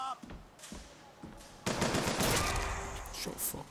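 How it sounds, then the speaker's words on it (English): Rapid gunfire erupts in the video game Bioshock Infinite, starting with a few scattered shots and then building into a dense, loud burst of automatic fire and impacts, with a voice talking over it. "And I just so happened to be getting shot at."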